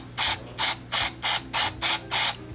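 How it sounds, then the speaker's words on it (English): Seven evenly spaced hissing sprays of leather stain remover onto a shoe, each a short burst of aerosol-like spray, close and clear with brief pauses between. "Then what I do is I take this product here and I spray it"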